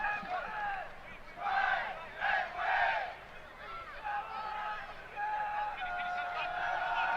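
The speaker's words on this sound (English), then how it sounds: "Good crowd here" Soccer crowd at a preseason MLS match between Seattle and Portland at Kino Sports Complex in Tucson, a distant roar that swells in waves of cheering and chanting, then settles into a steady murmur.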